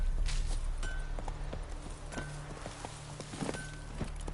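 Horse hooves clip-clop at a steady walking rhythm in The Witcher 3, moderately close over a faint outdoor ambience.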